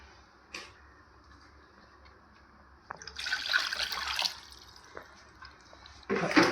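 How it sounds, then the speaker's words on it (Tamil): Water is poured into a pressure cooker holding country chicken curry for a Vellore-style biryani, heard as two close, moderately loud bursts of gushing and splashing after a quiet kitchen stretch. "அது வேகத்துக்கு தேவையான அளவு தண்ணி சேர்த்துக்கலாம்."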